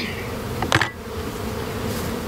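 Honey bees buzz around a hive in a steady, dense drone close by, with one louder individual buzz passing briefly near the start.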